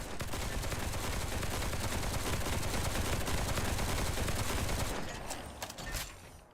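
Gunfire in the action game Duet Night Abyss roars in a dense, continuous barrage for about five seconds, loud and close, then breaks off into scattered fainter shots and clatter.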